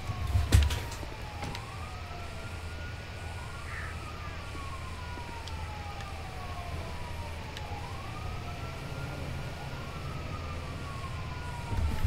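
Police sirens in a FiveM video game wail, rising and falling steadily over a low rumbling background, sounding some distance away with no talking.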